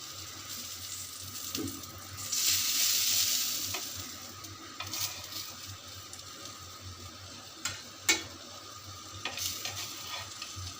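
Ash gourd pieces frying in hot oil give a steady, low sizzle with one louder burst of hiss early on and a few sharp utensil clicks later, with no voices.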